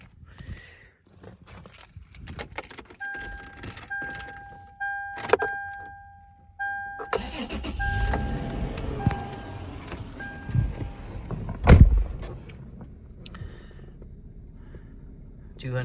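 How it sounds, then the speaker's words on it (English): A 2004 Toyota 4Runner is started: warning chimes ding in a short series, then the starter cranks and the engine catches into a low rumbling idle, with a sharp thump and a voice talking nearby. "Let's go ahead and start it up."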